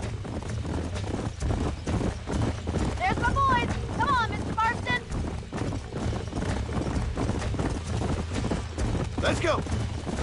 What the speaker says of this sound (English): We don't want the horses to bolt on us.